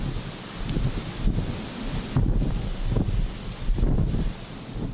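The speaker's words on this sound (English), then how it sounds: "A strong gust of wind and the central promenade" A strong gust of wind sweeps across a seaside promenade in Hong Kong, a loud, continuous rumbling roar that buffets the microphone in surges.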